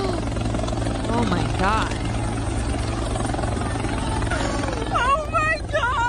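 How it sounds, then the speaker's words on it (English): A police helicopter flies low over the National Mall, its rotor throbbing loud and steady throughout while people react and talk beneath it. "They literally chase you off with a helicopter."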